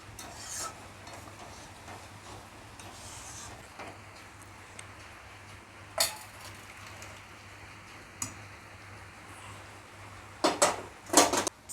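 Light scraping and stirring in a pan while a Bengali taro-leaf sour dish finishes cooking, with soft intermittent rasps and a few sharper clinks of a utensil against the pan near the end, quiet and close.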